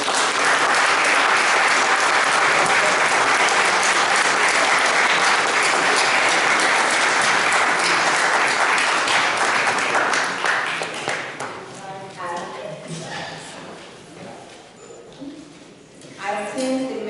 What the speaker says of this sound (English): can we get a round of applause to Councilmember Moore and Councilmember Coleman